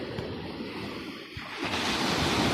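Sea waves wash in along the shore at Alexandria, a steady rushing surf with wind buffeting the microphone, swelling louder near the end with no talking.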